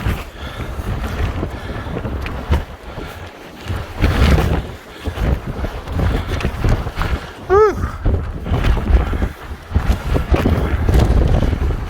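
Strong wind gusts buffet the microphone on a rocky mountaintop, a loud continuous roar with surging blasts, while a man briefly exclaims partway through.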